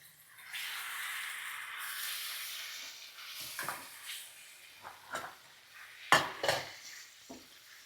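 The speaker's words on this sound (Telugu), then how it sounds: "Mutton liver వేసేస్తున్నానండి." Mutton liver tipped into a simmering curry pan, a soft hiss for a few seconds followed by scattered clinks and scrapes of a utensil against the pan, close and alone.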